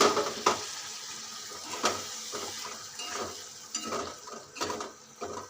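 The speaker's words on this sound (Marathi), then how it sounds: "थोडंसं पाणी घालूयात यामध्ये म्हणजे मसाले खाली लागणार नाही" Water goes into a pan of frying masala for a village-style egg curry, with soft splashing, faint sizzling and intermittent clinks and scrapes of a spoon stirring against the pan, fairly quiet and close.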